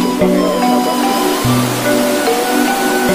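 Broad, steady rush of the Kali Cipinaha river flowing nearby, loud and constant with no voices, carrying a dense hiss throughout.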